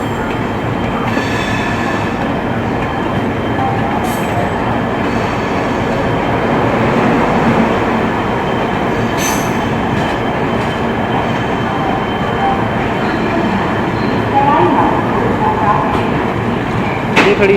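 An express train at Jaipur Junction gives a steady, loud rumble of rolling rail cars with faint wheel squeal and occasional clanks, heard up close and continuing throughout.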